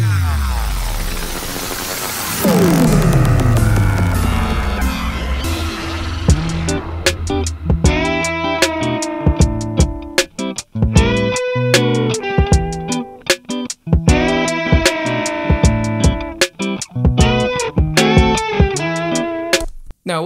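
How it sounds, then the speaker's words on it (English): Two amp-modeled electric guitar tracks play with a simple drum track, a dense, loud, distorted mix with steady rhythmic hits after a sustained opening swell. "Now what you just heard are the two amp modeler guitar tracks and then a little drum track that I have here"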